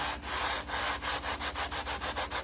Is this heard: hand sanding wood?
yes